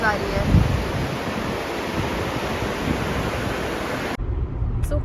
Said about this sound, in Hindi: गाइस, आप पानी की आवाज़ सुन पा रहे हो क्या?